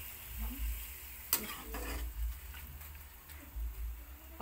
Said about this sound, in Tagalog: lalagay natin ng pusit. Pusit, yan. Ayan, haluin lang.